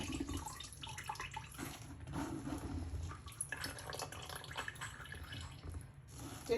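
Water dripping and trickling from pressed yellow corn chaff into a bowl while making Agidi, soft splashy liquid sounds close by with faint voice underneath.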